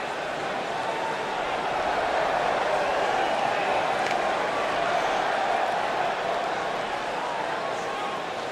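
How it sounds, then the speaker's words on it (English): A fired-up crowd at an IWA independent wrestling show roars in a steady, continuous wash of cheering and noise that holds level the whole time, with no single voice standing out. "Listen to this crowd, guys. They're fired up for this one."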